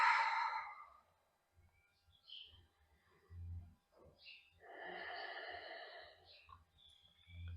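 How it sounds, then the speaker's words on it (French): Breathing during a yoga exercise, a long audible exhale followed by softer breaths and a quieter rustling stretch, close and calm with no talking. "Une respiration ici."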